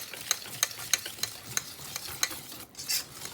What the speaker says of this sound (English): I'm going to take my whisk and I'm going to start to whisk it